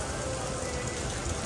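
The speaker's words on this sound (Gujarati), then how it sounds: "અત્યારે પણ વરસાદ એટલો જોરદાર આવે છે" Heavy rain pours down steadily in Surat, a dense, constant hiss of drops close by with no pauses or voices.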